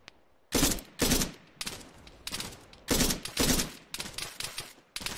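Gunfire in Arma 3 comes in loud, close bursts of several rapid shots each, repeating irregularly with short quiet gaps between volleys and no voices heard.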